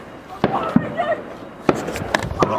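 Fireworks at an outdoor display in Stoke on Trent burst in a few sharp, separate cracks and pops with crackling tails, heard close with a drone flying through the display and some talk in between.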